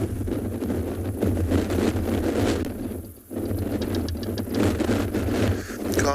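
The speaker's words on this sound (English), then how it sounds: "Wind is picking up considerably now" Strong wind buffeting the microphone out on a sunrise safari drive, a loud continuous roar and rumble with gusts that swell and briefly drop, a faint voice underneath.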